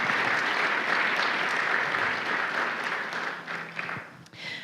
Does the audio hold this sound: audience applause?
yes